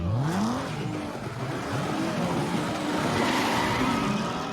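A racing video game car engine over-revs, a whining motor repeatedly climbing and dropping in pitch over steady, loud noise, with no talk over it.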